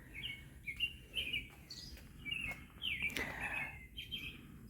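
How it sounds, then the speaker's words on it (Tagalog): Several birds chirp in quick, high-pitched bursts, fairly faint and close together, over a low background hum. "Ang ingay ng ibon, no?"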